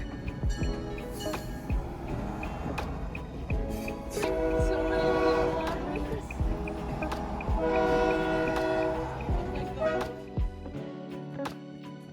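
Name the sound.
train passing with horn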